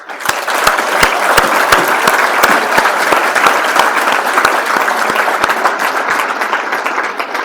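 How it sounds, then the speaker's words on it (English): Loud, sustained applause from a dinner crowd honoring the senior class at a 2023 Bucknell senior awards dinner, dense even clapping that fills the room for the whole stretch. "A big round of applause for our senior class."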